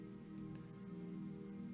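Rain falls in the video game Skyrim as a soft, constant patter on surfaces, quiet and even throughout, with no voices.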